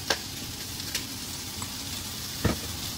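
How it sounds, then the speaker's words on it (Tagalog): Adobo sizzles steadily in a pan in a home kitchen, a constant close frying hiss broken by a few sharp pops, heard alone without speech. "Pumuputok yung aking nilulutong adobo."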